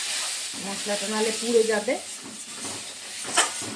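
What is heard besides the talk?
water poured onto ground spices sizzling in a pan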